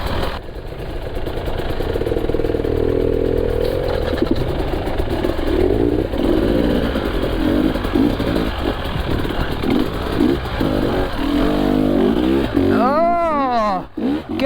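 An enduro motorcycle engine churns loud and close for the whole ride through a gully, its labored, uneven note rising and falling as the clutch works, with a brief voice near the end.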